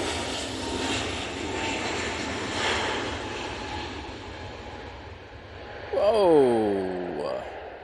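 A Hainan Airlines jet at Manchester Airport rumbles steadily with a rising and falling engine roar, and a voice breaks in near the end.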